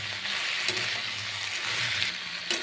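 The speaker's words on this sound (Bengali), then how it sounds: "লতিটাকে আমি একটু ভাজা ভাজা করে নেব।" Taro stolons (kochur loti) with boiled jackfruit seeds fry in a pan, a continuous close hiss of sizzling oil with occasional stirring scrapes and a low hum beneath; no talking.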